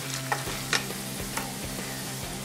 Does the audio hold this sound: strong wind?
no